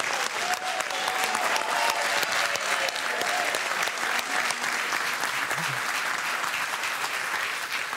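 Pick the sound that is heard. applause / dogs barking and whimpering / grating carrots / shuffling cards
applause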